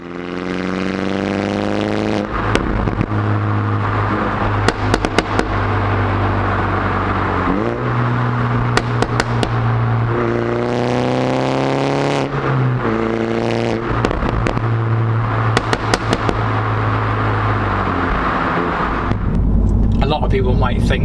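MINI Challenge 210 fitted with a JCW Pro exhaust revving and accelerating through a tunnel, loud echoing engine climbing through gears with sharp pops and crackles on the overrun between shifts.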